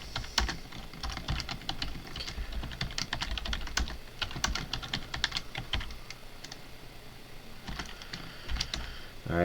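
Fingers type on a computer keyboard in quick bursts of close, crisp keystrokes, pausing briefly before another flurry starts near the end.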